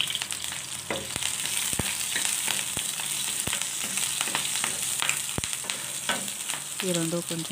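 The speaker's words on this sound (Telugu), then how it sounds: "వెల్లుల్లి ముక్కలు వేసుకోవాలి. అలాగే పచ్చిమిర్చి ముక్కలను కూడా వేసుకోవాలి. ఈ రెండు కొంచెం వేయించుకొని" Garlic and green chili pieces fry in a hot pan with a steady, loud sizzle, broken by a few sharp clicks of a spoon stirring them; no one speaks.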